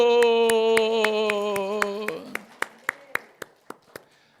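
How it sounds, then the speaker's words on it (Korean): A church congregation claps in steady rhythm, sharp evenly spaced claps over a sustained keyboard chord that cuts off partway through, after which the claps continue alone and gradually soften. "박수"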